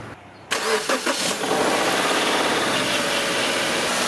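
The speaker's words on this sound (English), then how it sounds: "Well, started up smooth, works good, everything's in place, very nice." A Subaru Forester engine cranks with a few quick turns, catches, and settles into a steady close idle that runs to the end.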